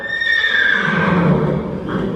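A horse in a riding arena gives a loud, drawn-out whinny that falls in pitch, heard up close and on its own with no voices.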